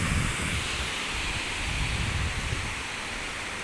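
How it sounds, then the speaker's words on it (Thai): Ta Ton waterfall in Thailand pours with a constant, close, full-bodied rush of falling water, a steady roar with no pauses and no voices. "วันนี้เราได้มีโอกาสไปเที่ยวน้ำตกตาโตนครับ"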